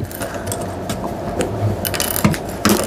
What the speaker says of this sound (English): Back stitching at the beginning and end.